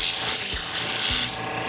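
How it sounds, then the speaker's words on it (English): Wood is sanded by hand with sandpaper, producing a close, continuous, loud gritty rasp with quick back-and-forth strokes. "just keep getting finer and finer sandpaper"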